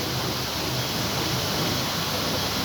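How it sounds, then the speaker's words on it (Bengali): A garden water fountain running, a constant dense rush of falling water filling the air evenly with no breaks or voices. "ফোয়ারা চলছে"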